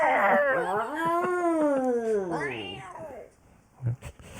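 A human voice imitates a female cat yowling during mating, a long wavering caterwaul that rises and falls, followed by a brief laugh-like sound.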